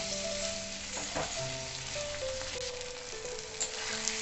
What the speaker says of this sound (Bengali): টমেটো কুচিগুলো দিয়ে আমি একটু ভেজে নেব।